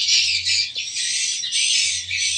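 A swiftlet roosting lure call plays through a speaker: bright, continuous high chirping and twittering in pulsing bursts, loud and close, with a faint low hum beneath.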